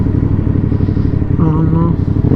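Ducati Streetfighter V4S engine rumbles loud and close at a steady idle in a Skegness street, a continuous low throb with a voice briefly audible over it.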